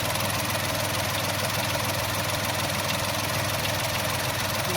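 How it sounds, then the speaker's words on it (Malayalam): A Mahindra 3X0 three-cylinder engine idling with a steady, slightly noisy rumble and faint vibration, close and continuous. "ത്രീ സിലിണ്ടർ എഞ്ചിൻ്റെ ആ ഒരു റംബ്ലിംഗ് ഉണ്ട് അത് മാത്രമല്ല കുറച്ച് നോയ്സിയാണ്"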